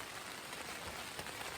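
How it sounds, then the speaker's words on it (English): Steady rain patters continuously on surfaces around a backpacking campsite in the Sierra near Shepherd Pass, a dense, even hiss of drops with no voices. "the rain has been pretty steady for the past 15 minutes or so"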